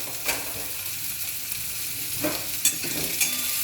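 Garlic, ginger and onions tossed in hot oil for beet and carrot cutlets, a steady close sizzle broken by a few sharp stirring scrapes, no talk.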